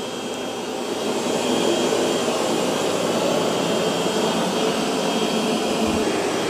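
A Roborock S8 MaxV Ultra robot vacuum runs over carpet with a steady, loud, continuous whirring roar that holds evenly throughout, with no voices.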